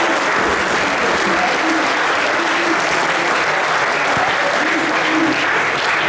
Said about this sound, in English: Give Benji a round of applause.